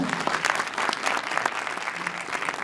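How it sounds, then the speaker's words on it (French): Audience applause at a Moroccan film festival honouring a veteran actor, a steady moderately distant wash of many hands clapping throughout with a faint murmur of voices. "Vous pouvez faire un applaudissement au maître"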